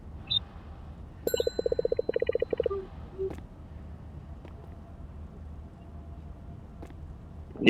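In a Roblox game, a bell dings near the start, then a quick run of about a dozen bright metallic rings follows, with a few scattered clinks later against a quiet background.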